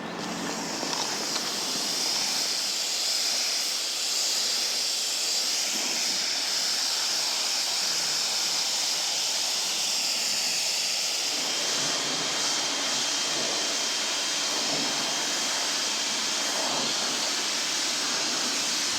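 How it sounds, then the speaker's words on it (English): Pressure washer spray rinsing snow foam off a McLaren 570s, a loud continuous hiss of water that holds steady for the whole stretch, close and unbroken, with no talking. "Let's get this foam rinsed off."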